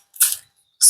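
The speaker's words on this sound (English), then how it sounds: "Now you have to spray your water." A hand spray bottle mists water onto a painting in two short, bright hissing bursts, close and crisp, separated by a brief silence.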